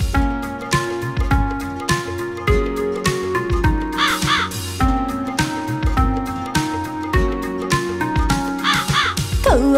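A thirsty crow caws repeatedly in a Hindi children's rhyme, loud rhythmic calls set over a bouncy musical backing with bright melodic accents throughout.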